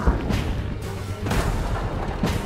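Gunfire in the video game The Quarry: several heavy, booming shots fire at irregular intervals over a constant loud rumble of game action.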